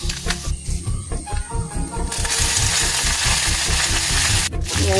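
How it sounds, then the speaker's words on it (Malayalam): Mustard seeds and two dried red chillies sizzle and crackle in hot coconut oil, a dense steady hiss that swells louder midway, with faint stirring under it. "വെളിച്ചെണ്ണ ചൂടായി വന്നിട്ടുണ്ട്. അതിലേക്ക് 1 സ്പൂൺ കടുക് ഇട്ട് കൊടുക്കണം. അതിലേക്ക് 2 വറ്റൽമുളക് ഇട്ട് കൊടുക്കണം."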